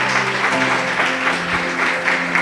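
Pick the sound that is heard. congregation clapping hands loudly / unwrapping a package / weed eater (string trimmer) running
congregation clapping hands loudly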